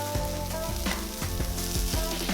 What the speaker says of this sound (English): Now we want to stir fry and toss this together until the rice is heated through and it's just starting to brown.